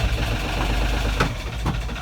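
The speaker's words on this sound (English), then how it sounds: "The next thing that we are going to check is that the engine goes back to idle and it continues to run." Boat engine settling back to idle after a gear and reverse check, a continuous low rumbling drone close by with a couple of faint knocks, steady throughout.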